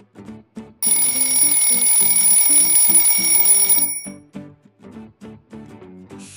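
A loud, continuous alarm clock ring lasting about three seconds, surrounded by bouncy background music.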